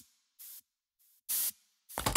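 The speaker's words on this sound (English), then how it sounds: "Dust spray can." A dust spray can lets out several short hissing bursts, close and bright, separated by silence, the last burst longer and rougher, with no voices.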